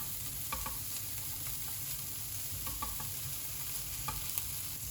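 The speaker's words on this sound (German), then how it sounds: "Währenddessen die Nudeln jetzt kochen und der Speck anbratet" Bacon (speck) frying slowly in a pan for spaghetti carbonara gives a steady, quiet sizzle close up, with faint occasional stirring scrapes and no talking.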